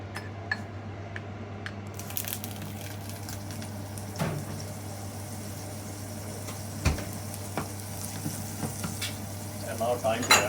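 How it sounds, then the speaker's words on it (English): Butter melts in a hot pan with a steady close sizzle and light frying crackle, with occasional scrapes and clinks from stirring against the pan. "put a little bit of butter here."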